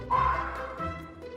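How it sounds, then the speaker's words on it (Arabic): A fox gives a single short, high, yelping bark near the start, close and alone, followed by a faint tail of lower sound. "fox"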